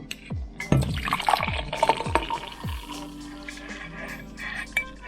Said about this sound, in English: Into the mug I'm gonna pour my hot chocolate.